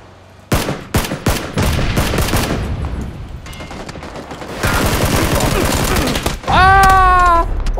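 Assault rifle gunfire in the battle royale game PUBG, several sharp close shots then sustained rapid bursts of automatic fire, ending in a loud tonal in-game effect, with a player's voice talking in places.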